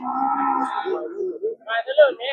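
Water buffalo at a livestock market low in drawn-out, deep moans, one long call followed by shorter, higher bellows nearby, with no one speaking over them.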